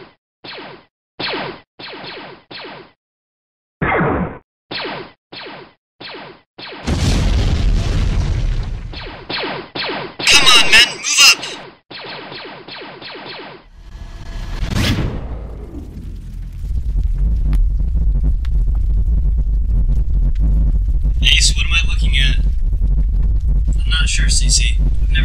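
Lego and Mega Bloks spaceships trade weapons fire in an animated Star Wars and Halo space battle: a rapid series of blaster shots, then loud booming explosions and whooshes, ending in a sustained rumbling roar.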